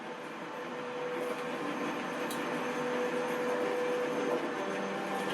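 A train in The Walking Dead video game slows toward a stop with a steady, moderately loud mechanical rumble and rattle. It builds slightly over a few seconds, and no one talks.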